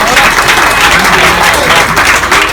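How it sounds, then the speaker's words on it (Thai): A crowd at a Thai motor racing event, during the riders' briefing, claps loudly for the organiser: close, dense, continuous applause with no break. "เสียงปรบมือให้กับป๋าเจ๋งนะครับ"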